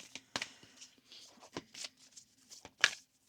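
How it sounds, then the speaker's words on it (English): A deck of tarot cards being shuffled close by during a reading: soft, intermittent riffles, slides and light slaps in short bursts, quiet overall. "I know that shuffling can be annoying."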